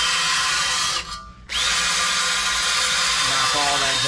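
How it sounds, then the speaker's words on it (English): Power drill spinning a wire brush against rusty front suspension parts of a 1995 Ford Thunderbird SC, a loud close whine that briefly stops and restarts, then runs steadily. "I grabbed my wire brush for the drill."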